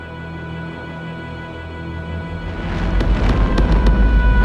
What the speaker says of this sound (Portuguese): E as explosões ainda continuam.